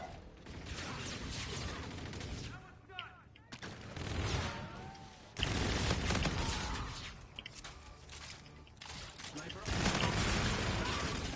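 Pistol shots and other gunfire from a Call of Duty match come in dense bursts, with loud blasts at the start, around the middle and near the end, mixed with game effects.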